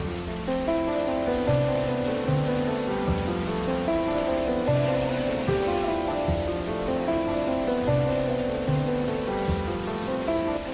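Heavy rain from the remnants of Typhoon Bebinca pours down steadily in Anhui Province, a dense, continuous hiss heard under a background of repeating music.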